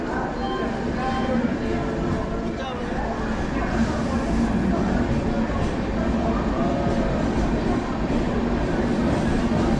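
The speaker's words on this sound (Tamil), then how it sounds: "ஸோ ட்ரெயின் போயிட்டுருக்கு." Coimbatore Express passenger train rolling away from a station, a loud continuous rumble with rhythmic wheel clatter and rattling carriages, heard from on board with faint voices in the background.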